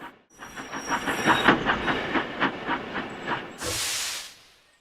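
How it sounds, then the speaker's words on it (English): Steam engine Thomas from Thomas and Friends chuffs in with a steady run of about a dozen rhythmic puffs, then gives a loud burst of hissing steam as it stops. No voices. "At last, Gordon arrived safely at his final destination just as Thomas chuffed in."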